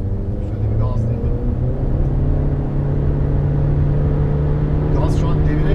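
A Honda CR-V with a 1.5 engine and seven-step CVT accelerating, giving a steady, sustained engine drone and cabin rumble with a nearly constant pitch. Faint voices are audible briefly beneath it.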